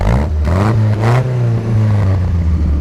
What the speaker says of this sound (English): Go ahead and rev it up one more time.